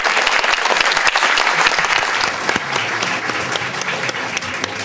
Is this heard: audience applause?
yes